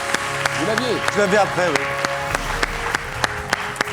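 Studio audience applause on the French quiz show Questions pour un super Champion, a steady patter of clapping running under talk as people speak over it.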